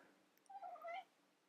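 A pet cat named Moxie gives a single soft, drawn-out meow indoors, quiet and close, with nothing else sounding around it.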